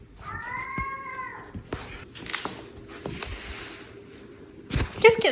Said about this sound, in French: Ah, mes chats aujourd'hui sont très vocaux.